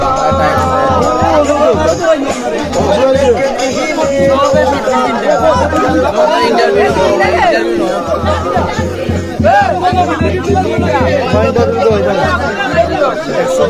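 A large crowd of spectators gathers on the banks and in boats for a traditional village boat race on the Kushiyara River in Sylhet, Moulvibazar, with loud, constant babble, chatter and calls overlapping throughout.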